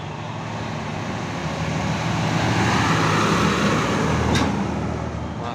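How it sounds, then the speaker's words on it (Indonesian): A city bus pulls into the shelter at Purabaya bus terminal in the morning, its engine rumbling steadily under continuous road and traffic noise, swelling slightly midway, with a short sharp hiss near the end. "Masuk shelter bus kota."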